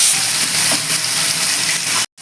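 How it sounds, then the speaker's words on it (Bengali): Prawns fry in mustard oil in a kadai with a steady, close, dense sizzle and crackle that runs unbroken for about two seconds before cutting to silence. "প্রথমে আমি চিংড়ি মাছটাকে ভেজে নেব।"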